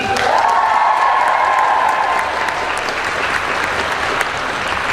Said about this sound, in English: Let's give another round of applause for Susie.